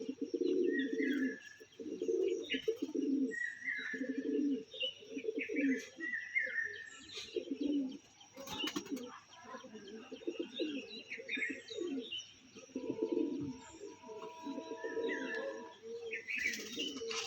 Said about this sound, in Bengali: খুব ভালো একটা নর পায়রা